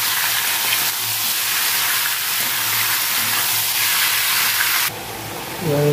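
Potatoes frying in hot oil give a loud, steady sizzle and hiss that fills the whole stretch, briefly dropping in intensity near the end.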